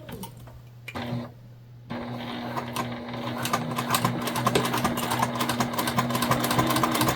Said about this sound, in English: when you put on a bag tag, you're just doing a nice little top stitch